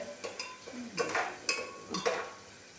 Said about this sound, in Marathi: आता कांदा बाहेर परतून घेतात